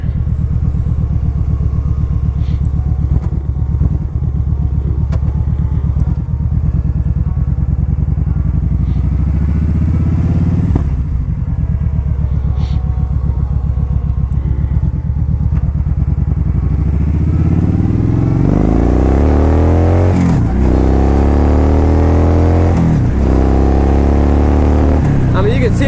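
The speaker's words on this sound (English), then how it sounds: "You can see the bike gets up and goes. It ain't slow." A 2013 Kawasaki Vaquero motorcycle engine drones steadily, then rises in a few climbing revving sweeps as it accelerates, loud and continuous.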